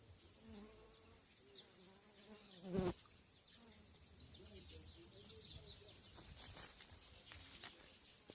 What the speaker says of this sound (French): on va observer un phénomène terrible. Les abeilles. J'aime les abeilles en genre.